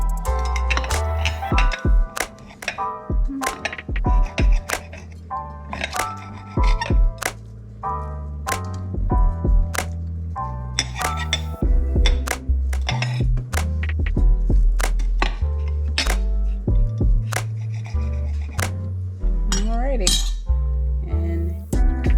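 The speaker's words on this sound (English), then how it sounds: "Just gonna chop it." A knife and fork chop food on a plate nearby, making sharp metallic clinks and taps that repeat in an irregular rhythm for about twenty seconds.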